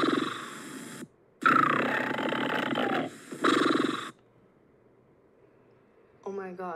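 A cartoon character snores in loud rasping breaths, two long snores and a shorter third separated by brief pauses, followed by quiet and a short voiced sound at the end.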